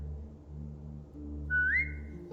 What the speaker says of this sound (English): Now whistle and tell her to lie down.